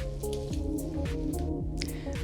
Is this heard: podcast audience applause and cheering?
no